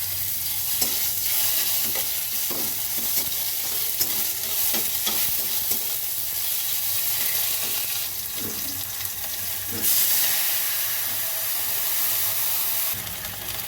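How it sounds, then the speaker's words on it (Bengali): Chopped tomato stirred in hot oil with lightly browned panch phoron for a Bengali catla fish jhol, steady loud sizzling with repeated scraping strokes of the spatula throughout, no talking. "টমেটোটা একটু নাড়াচাড়া করে নিয়েছি।"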